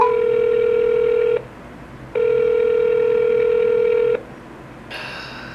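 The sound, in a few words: telephone dial tone while calling back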